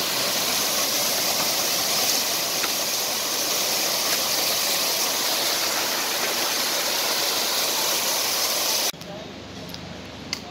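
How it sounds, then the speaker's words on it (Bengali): A mountain waterfall on the Kedarnath trek pours down in a loud, steady, broadband roar that stays constant for about nine seconds before cutting off abruptly to a quieter background. "ঝর্ণা পড়ছে এখান"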